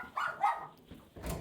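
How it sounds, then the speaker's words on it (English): An indoor dog lets out two quick yappy barks close by, followed by a softer whine and another short bark, fairly quiet overall. "And now the dog wants to come and say hello."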